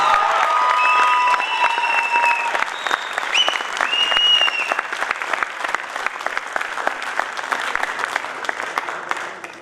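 Theatre audience at a comedy play applauding a performer's entrance, loud sustained clapping over fading musical tones early on, thinning to sparser claps toward the end.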